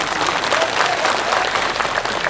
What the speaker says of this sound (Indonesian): tepuk tangan ke Pak Kum